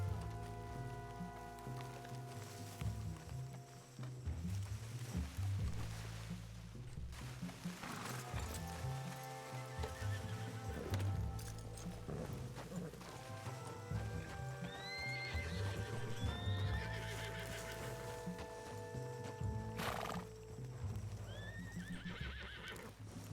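Horses in the video game RedM whinny and neigh several times over steady clip-clopping hooves, with a faint rain-like hiss underneath and no talk.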